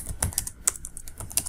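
Rapid keystrokes on a computer keyboard while entering details in an app tutorial, light irregular clicks clustered close to the microphone with no talking.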